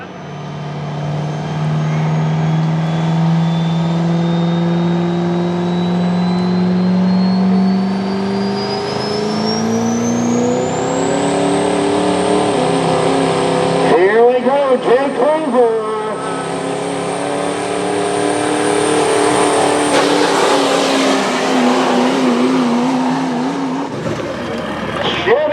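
Duramax diesel 4x4 truck engine at an open street truck pull, revving loud and sustained with rising pitch through a long pull, a brief dip midway, over crowd and announcer noise.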